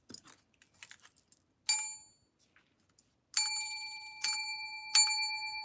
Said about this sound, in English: I gotta ring my bell.